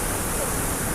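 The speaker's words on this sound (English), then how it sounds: "The water is flowing with full force thanks to the monsoon" A monsoon-swollen waterfall in Goa pours at full force, a continuous, loud, even roar of rushing water with no pauses.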